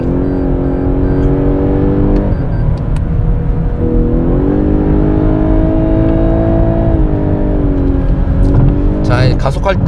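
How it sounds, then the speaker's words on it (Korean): A Lexus LS 500h hybrid sedan's engine pulls steadily under acceleration, its drone rising and holding in clear harmonic layers throughout, with someone speaking over it the whole time. "가속할 때 이 호쾌한 엔진 반응은 전혀 LS답지 않은 좀 다이나믹한 그런 힘있는 모습을 보여주기도 합니다"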